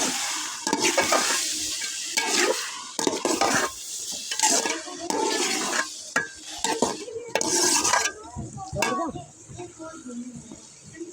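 A spoon stirs chana dal in a cooking pot, giving repeated scraping and clattering strokes over a soft sizzle while a person talks intermittently.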